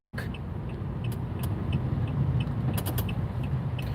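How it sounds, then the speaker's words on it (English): A large truck rumbles past on a country road, a steady low roar heard from inside a moving car, with a few faint clicks and rattles over the engine noise. "What's up, big truck?"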